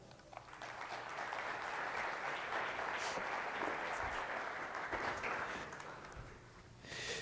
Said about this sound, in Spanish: Lo vamos a recibir entonces con un fuerte aplauso.